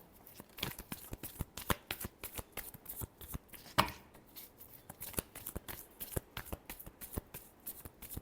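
Tarot cards are shuffled in repeated crisp riffling bursts, fairly close and quiet, with one sharper louder snap midway and no voices.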